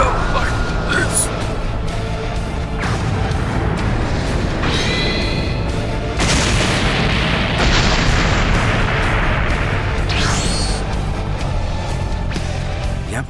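Heavy explosion blasts from a Dragon Ball fan animation about Frieza on Earth, with deep booming bursts and roaring rumble rising over a continuous noisy action mix while a voice speaks throughout.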